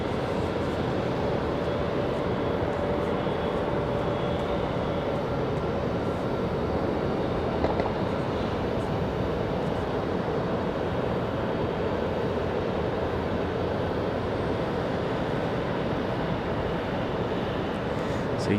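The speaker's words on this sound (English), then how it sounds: "American 2513, Raleigh Tower, good evening, runway 23 right, clear to land." An American Airlines jet landing on runway 23 right at Raleigh-Durham International Airport gives off a steady, broad engine roar that holds at an even level throughout, with no speech.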